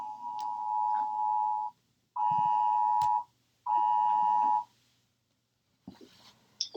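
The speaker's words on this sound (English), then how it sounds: "there's an alarm" During a lecture, an electronic alarm beeps in three long, steady tones, each lasting about a second, separated by short gaps, followed by faint rustling and clicks.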